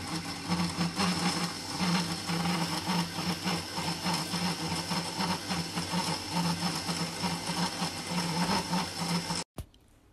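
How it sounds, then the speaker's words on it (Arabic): An electric mixer runs on its lowest speed through honey cake batter, a steady whirring drone with a faint rhythmic churn that stops abruptly near the end. "وراح اشغل الخلاط على اوطى درجة"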